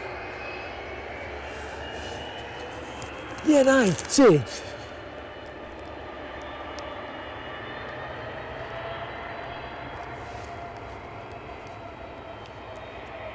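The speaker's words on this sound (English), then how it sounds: "I can hear a plane moving." Airliner, likely RB211-powered, taxiing at Edinburgh airport on a wet, windy day with strong crosswind gusts, heard as a steady distant engine rumble and whine throughout, with a brief louder burst of talk over it.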